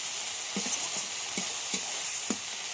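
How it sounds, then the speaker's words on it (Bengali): Ginger-garlic paste and tomato frying in a pan, a steady close sizzle broken by several soft scraping stirs of a spoon, with no talking. "আদা রসুনের যতক্ষণ না কাঁচা গন্ধ চলে যায় ততক্ষণ ভাজতে হবে।"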